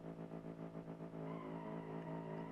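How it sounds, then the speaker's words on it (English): Car doing a burnout in BeamNG, a steady engine drone with pulsing revs at first, then a smoother sustained whine as the tires spin, moderately quiet throughout. "the best way for me to win would be to do a burnout to start"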